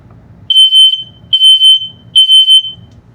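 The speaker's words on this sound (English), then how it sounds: "it's important to test the smoke detector as well" An RV smoke detector set off by its test button gives three loud, piercing pairs of shrill beeps in a steady rhythm, with a short pause between each pair.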